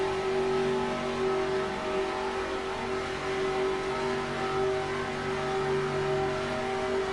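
Race cars in NASCAR Racing 2003 run down the backstretch in two battling lines, a steady droning engine whine held at an even pitch throughout, fairly quiet and unbroken.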